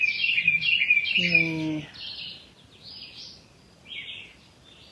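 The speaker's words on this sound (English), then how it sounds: "Listening to the bird song." Birds singing outdoors on a crisp morning, with bright chirps and trills close by in the first couple of seconds followed by scattered softer calls, while a person speaks a word partway through.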